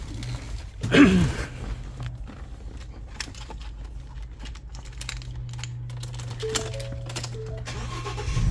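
A Ford Transit van engine cranks and catches with a short burst, then settles into a steady low idle with small clicks and rattles nearby.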